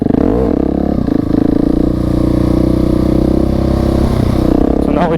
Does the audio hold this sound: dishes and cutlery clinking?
no